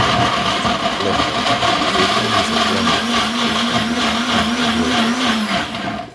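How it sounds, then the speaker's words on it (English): A powerful blender roars steadily at high speed blending fresh coconut for coconut milk, loud and close, its motor pitch wavering slightly before cutting off at the end. "a very powerful blender to execute this"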